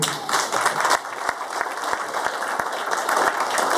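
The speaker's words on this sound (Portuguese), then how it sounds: "Aplauda o Senhor, meu querido" A church congregation at Murilo and Camila's wedding breaks into sustained applause, a dense close wash of clapping with a few louder individual claps standing out.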